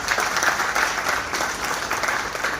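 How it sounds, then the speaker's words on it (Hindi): Loud, sustained audience applause at a corporate event program for a cooling-system company, thick even clapping filling the whole stretch with no voices over it. "एक बार जोरदार ताली सर"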